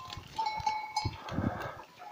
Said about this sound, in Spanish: Estas cabras se comen todo lo que sea.